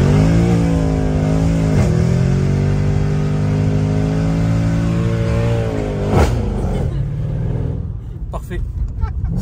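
Car engine revving hard during a launch control start, a loud sustained roar rising and falling in pitch with sharp shifts, up close, ending with tire and engine noise as voices talk over it.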